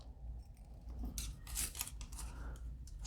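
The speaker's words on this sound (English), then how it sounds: "I'm going to trim them to be 2 inches" Scissors snip through locked-together parts of a 12-inch glide fishing bait, trimming them to 2 inches; a few soft cuts and rubs sound close and quiet, with no talking.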